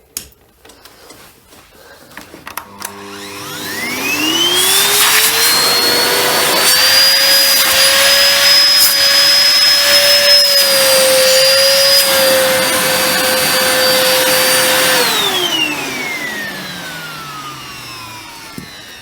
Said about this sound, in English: So it runs, and it does actually have pretty good suction, despite the filter being utterly clogged.